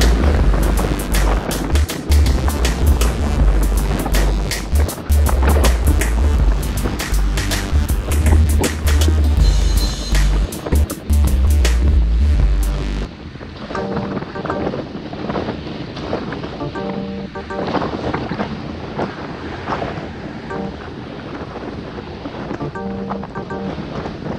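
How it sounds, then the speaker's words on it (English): Strong wind roars across the microphone during a group bicycle ride on a road at Capitol Hill, loud and continuous, with heavy low buffeting that eases after about halfway. "You hear that wind?"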